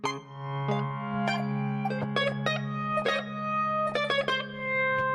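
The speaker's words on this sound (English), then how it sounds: "that'll be for this plucked grand right here" Sparse plucked grand piano notes from a software instrument ring out one at a time and in small clusters, bright and resonant, with gaps between phrases.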